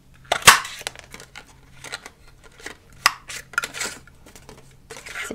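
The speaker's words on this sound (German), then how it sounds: "Und dann nehme ich mir meine Blüte und stanze mir das jetzt mal kurz aus." A handheld craft punch cuts a flower shape out of paper for a small handmade wedding favour, giving a few sharp close snaps and clicks with light rustling between them in a quiet room.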